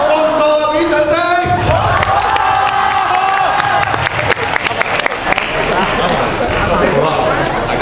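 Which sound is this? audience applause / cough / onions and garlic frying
audience applause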